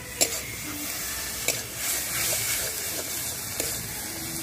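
Spiced masala with slit green chillies and a little sugar frying in a pan for a bottle-gourd and prawn dish, a soft steady sizzle broken by occasional sharp spatula clicks against the pan.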